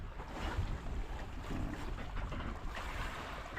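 A fishing boat's motor drones amid wind buffeting the microphone and the wash of waves on a tuna fishing trip at sea, a steady rumbling presence without talk.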